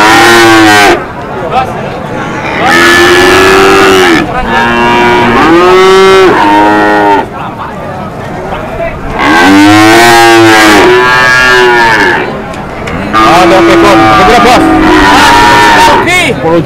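Several cows moo loudly in long, drawn-out calls, one after another with brief gaps, amid a busy crowd murmur at a cattle market in Pati, Indonesia.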